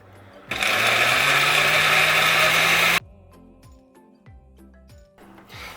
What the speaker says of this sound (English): I'm just going to simply take my chopped up mango, put it in the blender.